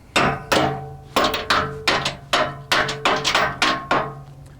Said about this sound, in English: These actual pins drive in here with the hammer.